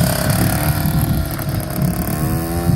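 A KTM 65 dirt bike engine idles steadily after starting, a loud, close two-stroke buzz with a fast pulsing rhythm throughout, no speech over it.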